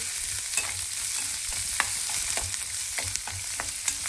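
Onions sautéing in a pan sizzle steadily with a bright hiss, broken by frequent spatula scrapes and small clicks as they are stirred, close up and without talk.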